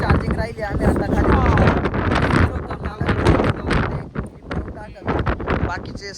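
Strong wind gusts buffet the microphone atop Vishramgad fort on a trek, a heavy, rumbling roar rising and falling while people talk over it.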